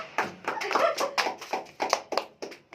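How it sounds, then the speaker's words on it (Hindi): A small group claps by hand after a birthday cake is cut, quick uneven slaps bunched together at close range, with faint voices underneath. "केक काट के ताली बजाना"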